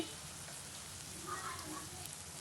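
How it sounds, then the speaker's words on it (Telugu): Onions, green chillies and curry leaves frying in a pan, giving a faint, steady hiss of sizzling oil with a few soft stirring scrapes, no voice over it. "ఉల్లిపాయ ముక్కలు పచ్చిమిరకాయ ముక్కలు కరివేపాకు వేసి వేయించుకోవాలండి"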